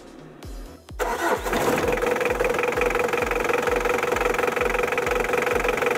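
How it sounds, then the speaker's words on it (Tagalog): A Mitsubishi Adventure engine cranks briefly, catches and settles into a steady, rhythmic idle during a radiator flush, loud and close throughout. "Start na natin yung makina."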